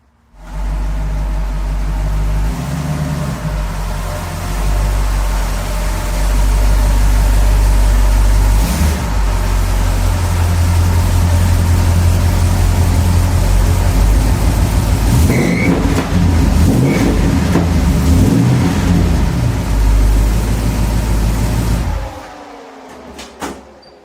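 1969 Plymouth Fury III V8 running steadily with a deep, loud rumble close by, a few revs and some mechanical clunks partway through, then cutting off at the end.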